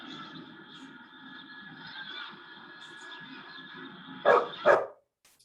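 Two quick, sharp dog barks ring out near the end, loud and close, after several seconds of quiet background hum and tones.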